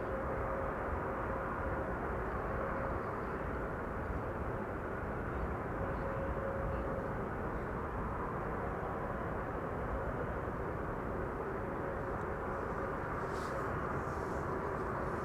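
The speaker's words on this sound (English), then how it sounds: "Flying on the downwind leg, the Emirates A380." An Emirates Airbus A380 airliner flies the downwind leg near Amsterdam Schiphol, a distant, steady broadband jet roar holding evenly throughout with a faint tonal hum.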